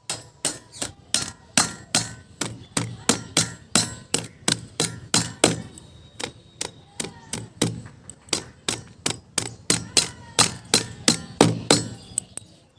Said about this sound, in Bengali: সবার প্রথমে আমি আদা আর রসুনটা একটু থেতো করে নেব